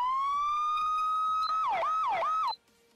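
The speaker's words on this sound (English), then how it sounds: "CHP sirens sound like this." A California Highway Patrol police siren in the BeamNG.drive video game holds a loud, steady wail, then switches to three quick swooping yelps before cutting off abruptly.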